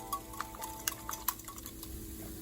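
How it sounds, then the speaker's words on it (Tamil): A spoon stirs spinach and coriander leaves into a beaten egg mixture for a Spanish omelette, with soft sloshing and a few light clinks against the bowl, quiet and close. "Just mix well."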